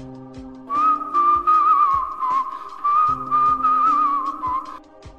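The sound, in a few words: eerie whistling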